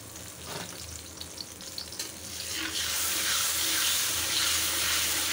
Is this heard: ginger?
yes